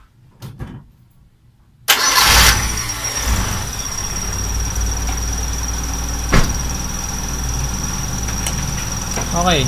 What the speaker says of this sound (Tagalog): paandarin lang natin yung makina